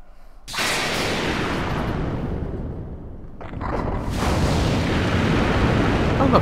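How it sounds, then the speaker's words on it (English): Fire in the Suikoden III video game: a broad, steady roar that starts abruptly, dips briefly near the middle, then swells again louder and sustained to the end, with no talk. "Oh look, fire."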